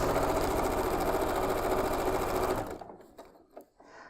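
A sewing machine runs fast and steady while stitching a butterfly quilt block, its dense mechanical whir continuing for over two seconds and then stopping abruptly, followed by a few faint handling clicks.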